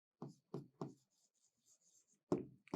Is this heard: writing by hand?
yes